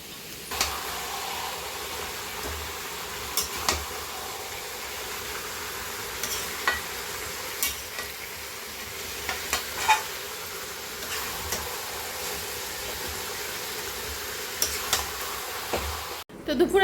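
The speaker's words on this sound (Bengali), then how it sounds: "এই পাশে চিকেনের জন্য পেঁয়াজ কষাচ্ছে।" Onions sauté in a pan for a home-cooked chicken dish, a low steady sizzle with occasional soft stirring clicks, fairly quiet, and no voices.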